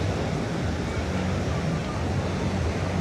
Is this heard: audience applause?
no